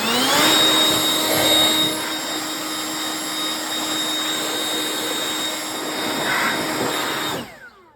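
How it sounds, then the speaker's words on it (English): A powerful blower roars steadily, close and loud, clearing grass buildup and debris off a Ryobi plug-in electric lawnmower, holding a constant whine for several seconds before cutting off abruptly. "You get a blower and blow this off"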